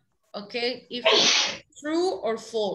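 A single sharp sneeze bursts out in a classroom during a reading lesson, loud and close, set between stretches of a teacher's speech.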